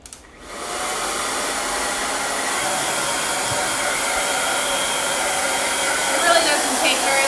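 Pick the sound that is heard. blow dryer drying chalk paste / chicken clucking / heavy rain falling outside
blow dryer drying chalk paste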